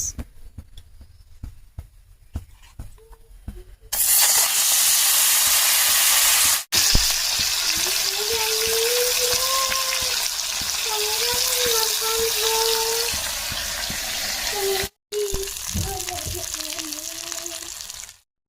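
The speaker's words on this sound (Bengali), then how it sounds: "কড়াইতে অ্যাড করলাম তেল তেলটা গরম হয়ে গেছে অ্যাড করব মাছ" Fresh river fish frying in hot oil in a wok, a loud steady sizzle bursting in and running continuously, briefly cut off, with a voice talking over it now and then.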